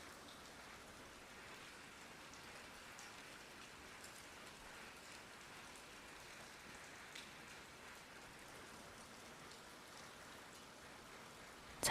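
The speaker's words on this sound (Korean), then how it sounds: "오늘은 이렇게 하늘에서 내리는 비가" Steady, soft rain falling, an even hiss of drops with occasional faint pattering, continuous throughout.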